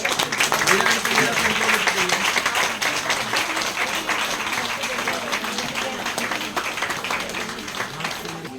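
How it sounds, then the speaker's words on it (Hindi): A crowd claps steadily at a corporate new year celebration, dense applause lasting several seconds beneath ongoing voices and background music, gradually settling slightly in loudness. "एक और जबरदस्त तालियां होनी चाहिए।"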